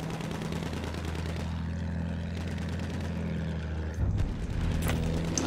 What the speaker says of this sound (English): Oh, of course I'm shooting the bomber.